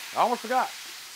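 Cheese melts straight on a hot Blackstone griddle beside spicy Mexican pasta, giving a steady, soft sizzling hiss throughout while a voice briefly speaks over it.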